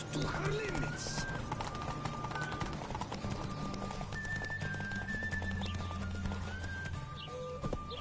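Roach the horse galloping in The Witcher game, a steady rapid clip-clop of hooves at a near, even level, with a short whinny early on and game sound effects over it.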